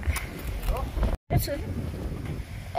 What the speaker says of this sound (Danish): hvis der ikke var så meget vind